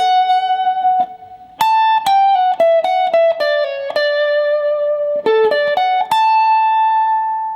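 An electric guitar plays a clean, bright single-note lead line in D, built on arpeggios, with a quick run of picked notes and a few sustained tones, loud and alone.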